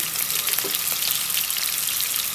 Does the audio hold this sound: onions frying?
yes